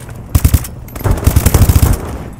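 Rapid bursts of automatic gunfire in Call of Duty: Advanced Warfare, loud and close, firing in two clusters of quick repeated shots with a short pause between.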